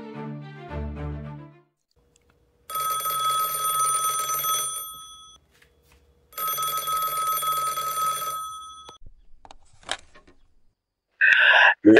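An old-style telephone bell rings in two long, bright trilling bursts separated by a pause, within an audio drama of a detective story; a narrator's voice speaks before the rings and brief sounds follow.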